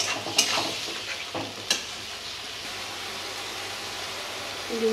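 Ground spice paste of ginger, garlic, chili, tomato and onion cooks into a gravy in a pan, a soft steady sizzle with a few sharp clinks of stirring early on, then a quieter simmering hiss.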